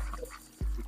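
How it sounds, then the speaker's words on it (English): A duck quacking sound effect plays, a few nasal honking calls followed by a louder low burst, fairly close and filling the brief moment. "Oh, you got duck sound effects now too."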